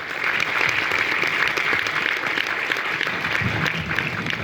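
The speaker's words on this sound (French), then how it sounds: "On peut l'applaudir" Sustained audience applause at a film premiere for actress Agathe Bonizet, a dense steady wash of clapping from a large crowd lasting several seconds without talk.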